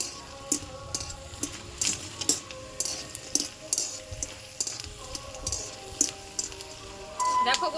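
Peanuts fry in oil in a pan, a soft sizzle under repeated sharp metallic taps and clinks of a spoon stirring against the pan.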